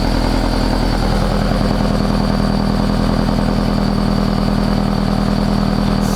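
Steady, loud engine note from a supercharged Subaru BRZ running at idle, with a continuous low throbbing rhythm and a constant droning hum throughout, close by with no voices.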